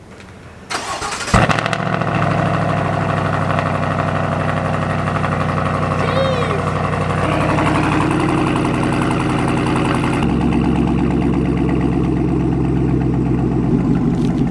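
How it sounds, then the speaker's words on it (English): A Chevrolet Silverado ZR2 pickup engine with an aftermarket exhaust cranks and fires up on its first startup, then settles into a loud, deep, throaty idle that rumbles steadily for several seconds. "First startup, you guys will see on camera. This thing sounds incredible. Best exhaust ever."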